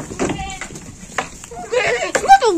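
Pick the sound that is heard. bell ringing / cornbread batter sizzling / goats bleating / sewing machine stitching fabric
goats bleating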